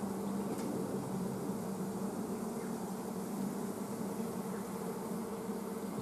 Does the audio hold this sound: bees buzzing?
yes